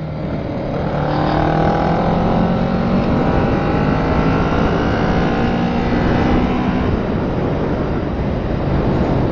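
A Kawasaki ER6N motorcycle accelerates hard uphill from 0 to 100 km/h, its engine note climbing steadily under a heavy roar of wind buffeting, loud and continuous.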